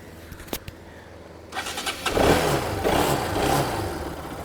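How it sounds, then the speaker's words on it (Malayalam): A Bajaj Pulsar RS200 motorcycle, used, starts up after a brief quiet stretch with a few clicks, then its engine catches and settles into a steady, fairly loud running note that stays up close. "ഈ വണ്ടി നമ്മൾ സ്റ്റാർട്ട് ചെയ്തുകൊണ്ട് നമുക്ക് കാണിച്ചു തരാം"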